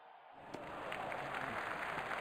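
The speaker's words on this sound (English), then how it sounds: "Crowd going mad here." Crowd cheering and applause in the Real Cricket video game rise from silence into a steady, fairly faint roar of a packed stadium after a six, with no talk.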